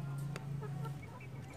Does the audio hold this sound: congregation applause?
no